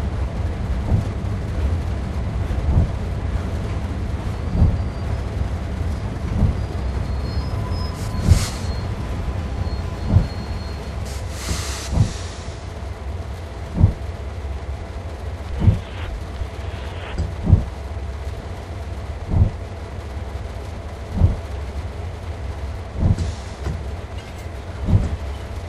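Locomotive in Train Sim World 2 rolling slowly toward a line of freight wagons, steady low rumble with regular clicking rail joints about every two seconds and a few brief hissing bursts, no talk.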